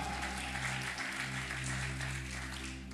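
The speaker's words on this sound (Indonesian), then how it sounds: "Tepuk tangan" Sustained applause from a congregation during a Sunday afternoon church worship service, a steady dense clatter of clapping that continues throughout at even loudness over a low organ-like hum.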